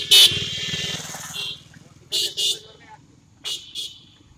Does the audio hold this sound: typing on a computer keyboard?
no